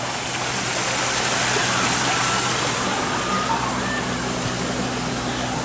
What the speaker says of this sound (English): Get the water running here again.